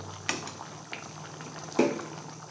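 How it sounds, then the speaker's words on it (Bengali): A pot of white potato curry simmering on the stove, with soft steady bubbling beneath a low hum and two sharper clinks of utensil against metal. "বন্ধুরা অলরেডি ফুটতে শুরু করেছে। এটা খানিকক্ষণ ফুটতে দিতে হবে"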